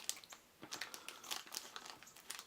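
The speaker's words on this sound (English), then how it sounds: "I'm going to use scissors because these blind bags are sealed pretty well" A sealed plastic blind bag for a Mattel Justice League Action Mighty Minis figure is cut open with scissors: a close, quiet run of crisp crinkling and snipping over about two seconds, with no talking.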